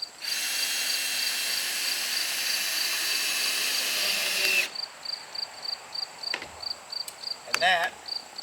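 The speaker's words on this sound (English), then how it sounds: "With it pulled up tight, you insert your screws" A power drill drives screws into OSB wall panels in a she shed, one long high whine running several seconds, then silence broken by short buzzing pulses and a brief squeal, under steady insect chirping outdoors.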